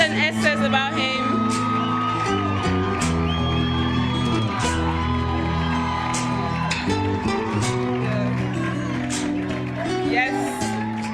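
A graduation ceremony crowd at African Leadership University whoops and cheers with loud, sustained voices mixed with shouts. The sound is dense and continuous, with no distinct hand claps standing out.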